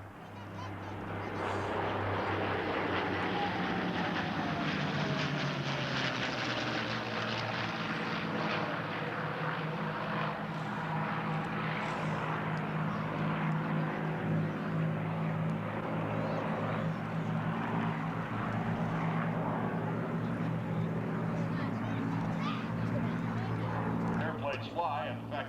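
Aerobatic airplanes of the Four Horsemen team fly past at the 1995 Sussex Airshow, a steady loud engine drone sustained for about twenty seconds, swelling and shifting in pitch as the formation passes left to right.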